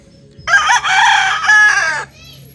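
Young gamefowl stags crowing in a backyard, one loud, close crow lasting about a second and a half, rising then drawn out with a ragged tail, followed by faint background clucking.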